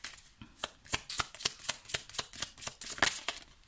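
Tarot cards being shuffled and drawn, a close run of about a dozen crisp flicking riffles in a quick, fairly even rhythm.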